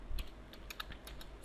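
Quick, light keystrokes tap on a computer keyboard, a short irregular run of soft clicks heard close and alone in a quiet room.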